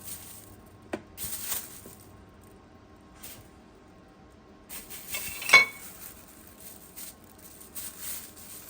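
A metal fork presses along the edges of empanada dough, giving a few soft clinks and taps against a plate or board, quiet and sparse with light patter between, no talking.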